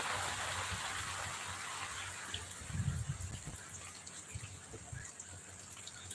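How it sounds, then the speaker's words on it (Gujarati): Rain falls steadily over a farm field, a constant wash of broadband hiss heard up close and alone, with a brief thicker gush midway. "જો વરસાદે પાછું પિકઅપ વધાર્યું જુઓ તમે"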